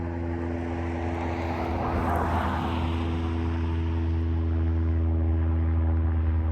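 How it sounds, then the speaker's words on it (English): A propeller airplane passes overhead as a loud, steady drone with a low engine hum that swells slightly toward the middle and stays close and dominant throughout. "I'll give the airplane just a, little bit of time here to get just slightly less loud in the microphone of this device"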